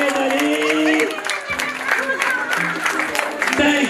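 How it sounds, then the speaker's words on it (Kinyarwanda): Wedding guests at an anniversary celebration in Houston, Texas clap together amid crowd noise, the applause rising and falling over about four seconds while voices and music tones carry underneath. "reka tubasabe bakire mubakire n'amashyi menshi"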